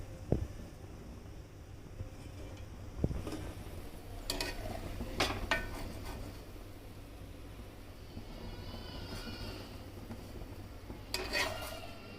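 Fried black raisins being scooped out of hot oil in a pan, with faint sizzling beneath scattered clinks and scrapes of a spoon, and a louder cluster of clatter near the end.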